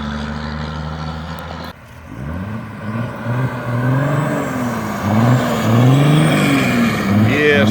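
A 5.9 Cummins diesel truck with a 5 inch straight pipe and 24-inch tail tip drives off after a brief pause, its deep exhaust rising and falling through gear changes, growing louder as it pulls away, with talk over it.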